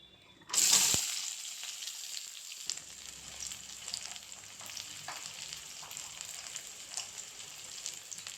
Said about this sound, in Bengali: তেল গরম হয়ে গেছে। এখানে নিয়েছি পেঁয়াজ কুচি আর রসুন কুচি, এগুলো দিয়ে দেব।